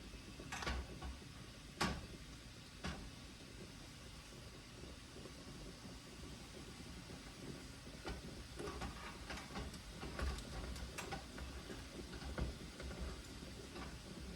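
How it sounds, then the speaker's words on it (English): Water at a rolling boil in a large canning pot used as a water bath, a steady rumbling hiss broken by occasional sharp pops and bubbles, close by with no talking. "I've got my water boiling in my water bath."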